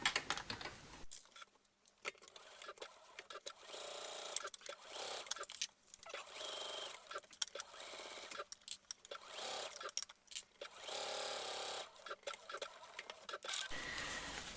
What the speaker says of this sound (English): So then you're going to sew all the way along here